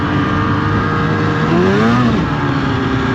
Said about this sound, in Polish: To kliknięcie na gaz i to jest od razu krętka, nie?